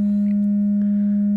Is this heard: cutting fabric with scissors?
no